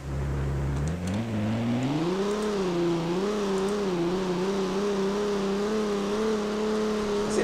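An ACF car engine in Garry's Mod revs steadily upward through its gears, a loud, close droning whine that climbs in pitch, dips at a shift, then settles into a sustained wavering hum.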